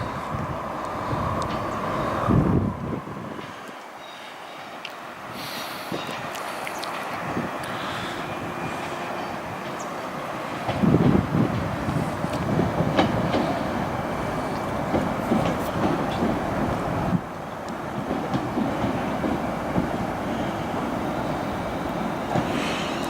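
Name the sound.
train passing by on railway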